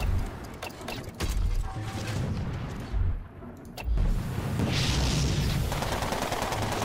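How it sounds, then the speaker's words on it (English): Repeated mortar blasts and gunfire from the Toy Soldiers video game, with rolling booms and crackling shots stacking up in a dense, continuous battle din. "Oh, we're getting counter-mortared."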